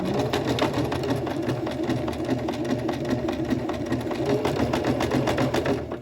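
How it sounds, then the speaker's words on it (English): A sewing machine stitches steadily along the edge of a shirt's fabric, then back stitches a short way, its needle chattering in a continuous close, loud run with no pause or talk. "And I'm stitching right towards the edge. And then I'm going to back stitch a tiny bit"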